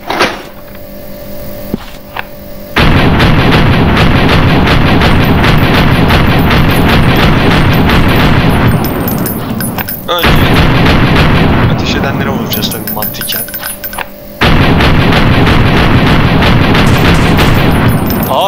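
Gunfire in The Last One, a Turkish-made video game, with long loud bursts of sustained rapid shooting broken by short pauses, a person talking over parts of it.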